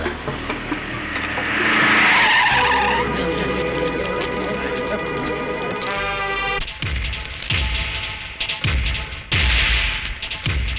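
A vehicle reverses with a loud tire skid and engine roar, then a string of sharp thumps and impacts in a Tamil film scene, close and dominant.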